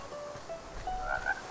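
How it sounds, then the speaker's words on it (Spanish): Frogs croak in the video game A Plague Tale: Requiem, a few short, faint calls that get livelier toward the end over a low, steady ambient bed, with no talking. "¡Ranas! Mira, justo ahí."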